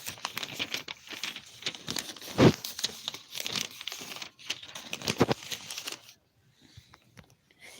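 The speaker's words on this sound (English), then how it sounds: "I'm just shuffling up the pages here." Paper pages rustle and crinkle in quick, irregular handfuls, with a couple of sharper crisp snaps, then the handling stops near the end.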